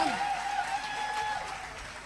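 Steady applause from a crowd, a continuous wash of clapping that holds at an even level throughout.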